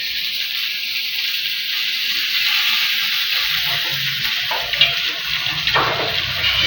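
Chicken meat frying in a pan gives a steady, bright sizzle with continuous crackling, holding level throughout and growing slightly busier toward the end.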